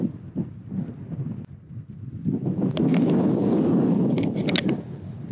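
Strong, gusty wind buffeting a microphone at a paragliding launch site in Africa, a roaring rush that swells and drops in cycles, loud and close, with no talk.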